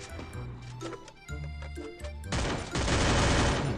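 Sustained automatic gunfire in the game Free Fire starts partway through and runs loud and dense to the end, after a quieter stretch of game sounds and music.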